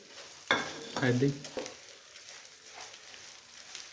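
Steady sizzling of edible gum (gond) frying in hot oil in a pan, with brief clatters of stirring near the start; no talking.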